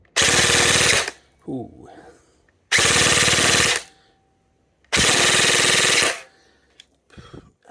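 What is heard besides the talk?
Jing Gong JG109 MC51 airsoft gun firing full auto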